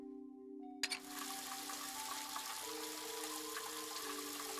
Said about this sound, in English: It's a shower.